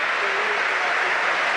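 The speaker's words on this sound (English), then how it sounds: "Nice round of applause for Liam Delap as well." Football crowd at an Ipswich Town versus West Ham United match applauding a substitution, a steady, loud wash of clapping from a large stadium crowd.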